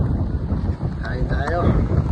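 Wind rushes past during an outdoor bike ride, a loud buffeting roar against the microphone with a few faint voices mixed in.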